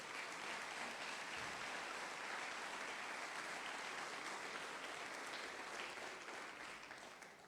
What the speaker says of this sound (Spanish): Dele un aplauso a aquel que vive.